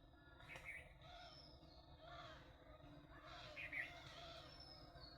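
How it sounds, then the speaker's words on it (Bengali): Birds calling near a bamboo grove in the morning, a quiet scattering of chirps and caws in the distance over a faint, steady background. "সব সময় পাখি এখানে।"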